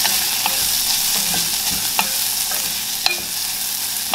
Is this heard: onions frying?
yes